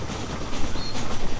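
A train rumbles along the tracks in the Western video game Red Dead Redemption, a loud, close, rhythmic clatter of wheels with no voices over it.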